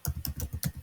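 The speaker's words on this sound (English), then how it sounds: "I'm gonna type email" Quick keystrokes on a computer keyboard, about five soft close taps in under a second, alone in a quiet room.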